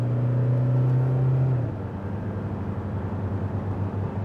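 Engine of a 2021 Toyota Hilux Revo GR Sport pickup, heard from inside: a steady droning hum whose pitch holds, then drops and settles into a lower rumble.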